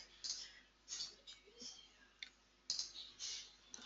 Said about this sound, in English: And you can click on save.